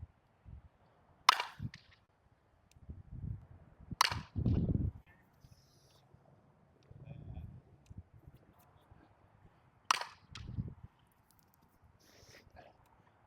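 Sharp, bright cracks of a baseball bat striking balls during batting practice, with three distinct hits spaced several seconds apart and low thuds and movement between them.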